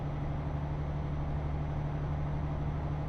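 A truck engine in Euro Truck Simulator 2 hums as a steady, low drone with a constant pitch, running unchanged and alone from start to finish.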